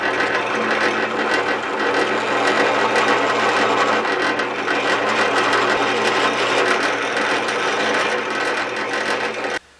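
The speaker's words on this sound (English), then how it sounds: "I'm going to use the welding vise to hold it straight up in the drill press." A drill press bores into an irregular metal bracket clamped in a welding vise, producing a continuous loud mechanical whir and grinding chatter with a steady motor hum, close, ending abruptly.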